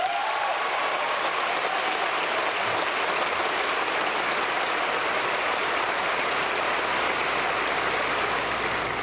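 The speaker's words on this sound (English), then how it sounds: "Let's give them a round of applause" Sustained applause from a graduating-class audience at a high school commencement, a steady dense wash of clapping that holds evenly for the whole stretch with no talk over it.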